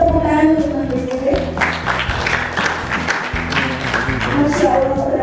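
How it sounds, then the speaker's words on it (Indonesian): Audience at a talk event applauding steadily for several seconds, a dense wash of clapping with voices and music mixed underneath. "tepuk tangan untuk Mas BJD."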